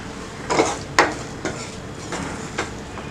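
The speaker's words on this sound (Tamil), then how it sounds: "இதை வந்து நல்லா கலக்கி விடுங்க." Egg being mixed with coriander and sautéed banana flower for an omelette, a run of scraping, tapping strokes of a spoon against a bowl, fairly close and irregular, with no voices.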